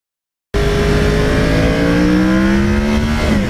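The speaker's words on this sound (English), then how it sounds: "just letting it back off the gas and listening to that engine." A 2009 Yamaha R1 crossplane motorcycle engine revs loud and close after a sudden start, a sustained high snarl whose pitch climbs steadily before dropping off the gas near the end.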